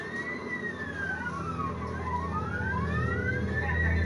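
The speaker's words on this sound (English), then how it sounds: "What the hell is all that police sirens?" Wailing police sirens in a video game high-speed chase sweep up and down in pitch, several overlapping, over a steady low engine rumble, continuous and fairly loud throughout.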